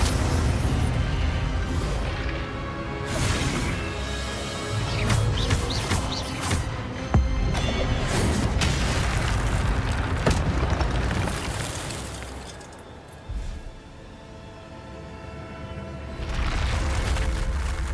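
Fire spells cast in Hogwarts Legacy, a dense run of loud whooshing, crackling bursts and booming impacts over continuous game ambience, with a brief lull near the end before the rumble swells again.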